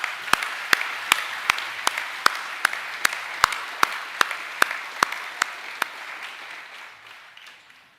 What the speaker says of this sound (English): We might give him another round of applause